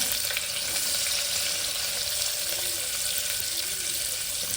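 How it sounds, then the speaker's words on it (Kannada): Onions fry loudly in hot oil with a steady, dense sizzling hiss that continues without pause. "ಎಣ್ಣೆ ಪಾರ್ದಾಂಡು ನೆಕ್ ಒಂಜಿ ಕಂಡೆ ನೀರುಳ್ಳಿದ ತೊಂದು ಪಾಡುಗ"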